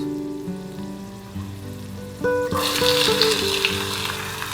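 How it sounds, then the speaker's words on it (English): Onions saute in a pan after golden garlic for ratatouille. After soft background music, a loud, dense sizzle bursts in and keeps hissing steadily, close by, with the music still faintly underneath. "So I'll saute the onions till they are translucent"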